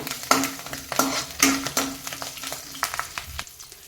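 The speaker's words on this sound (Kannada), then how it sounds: "ಸ್ವಲ್ಪ ಕರಿಬೇವು ಸೊಪ್ಪನ್ನು ಹಾಕ್ತಾಯಿದ್ದೀನಿ ಇದನ್ನು ನಾವೀಗ ಎಣ್ಣೆಯಲ್ಲಿ ಫ್ರೈ ಮಾಡಬೇಕಾಗುತ್ತೆ ಚೆನ್ನಾಗಿ" Curry leaves hit hot oil in a pan, giving a crackling, spitting sizzle in short bursts with a few louder pops, heard close with no talking.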